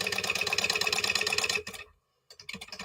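A sewing machine running steadily while top stitching, a dense continuous mechanical whir for about a second and a half before stopping, followed by brief faint handling clicks.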